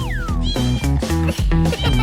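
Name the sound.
kitten meowing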